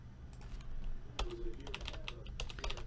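Keys clicking on a computer keyboard in short uneven bursts, close and moderately loud over a low background rumble, with a faint tone briefly in the middle and no one speaking.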